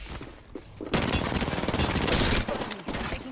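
Video game gunfire in an Apex Legends match with Seer, a loud sustained volley of rapid shots lasting about a second and a half, flanked by quieter scattered shots.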